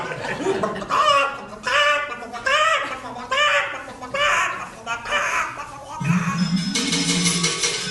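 A voice imitates a chicken in a stage performance, with rhythmic clucking bursts repeated several times, close and loud, ending in a higher squawk.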